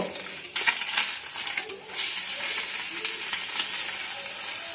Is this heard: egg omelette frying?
yes